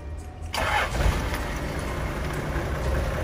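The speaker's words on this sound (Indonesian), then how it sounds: "kita baru mulai hidupkan mesin untuk cek ya beberapa menit apakah ada kelainan atau suara-suara yang aneh" A car engine cranks and catches after a quiet moment, then settles into a steady, low rumbling idle that continues evenly, heard close up with no talking.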